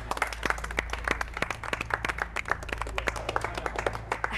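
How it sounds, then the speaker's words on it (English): A small group claps for a woman, quick uneven hand claps rising and falling over a low steady hum, moderately close, with a brief voice in the mix. "An applause for the madam."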